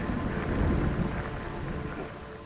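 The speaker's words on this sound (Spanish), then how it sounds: "empecé a pensar que llovía cada vez más fuerte" Heavy rain pours down in a steady, dense roar during a storm in the wild, with a low rumble like distant thunder beneath it and no voices.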